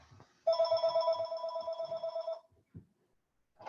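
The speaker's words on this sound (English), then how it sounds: "Sorry about the phone." A telephone rings close by during a trail interview outdoors: one long electronic warbling ring lasts about two seconds, then stops, followed by brief quiet and faint movement.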